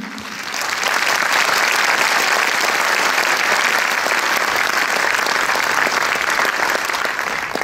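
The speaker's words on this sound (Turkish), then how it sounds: "Alkış istiyorum." A crowd at a Çanakkale Victory commemoration poetry event claps steadily and loudly for several seconds, dense applause filling the room without a break.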